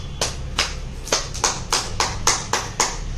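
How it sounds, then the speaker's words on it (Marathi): Hands clap at home about nine times in an even, brisk rhythm, each clap crisp and close with quiet room tone between. "टाळ्या वाजव."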